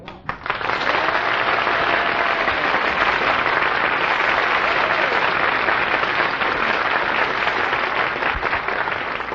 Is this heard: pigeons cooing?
no